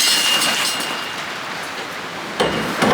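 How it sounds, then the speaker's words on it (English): Heavy rain pouring down outside a cottage under renovation during a gale, a dense continuous hiss of rain with wind, fairly loud and steady, with a couple of brief knocks near the end. "Absolutely blowing a gale outside, pouring down the rain"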